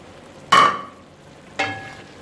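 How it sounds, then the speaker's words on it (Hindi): Stuffed brinjal masala gravy fries in ghee, giving two brief sizzling hisses about a second apart as the pan is stirred, each fading quickly into quiet. "अब हमने इन्हें मज़ीद भूनना है"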